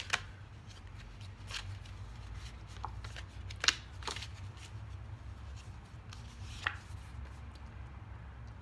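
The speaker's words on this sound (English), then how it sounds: "This card just popped out as I was trying to shuffle." Tarot cards are shuffled close by in soft, irregular riffles and taps, with a few sharper snaps scattered throughout.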